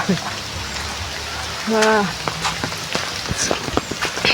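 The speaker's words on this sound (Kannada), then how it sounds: "ಸಖತ್ ಮಳೆ ಬರ್ತಾ ಇದೆ ಒಟ್ಟಿನಲ್ಲಿ" Heavy rain pours down steadily, a dense close hiss of drops on surfaces throughout, with a brief tonal sound and a few sharper splashes and taps mixed in.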